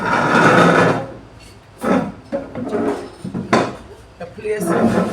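A wooden chair scrapes and bumps as it is shifted about in a home, with several short knocks and drags at close range mixed with people talking.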